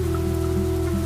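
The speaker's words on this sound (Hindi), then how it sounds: "बाहर काफी तेज बारिश हो रही थी" Heavy rain sound effect in a Hindi horror story, a dense, steady patter and hiss with a low hum under it, loud and brief with no voices over it.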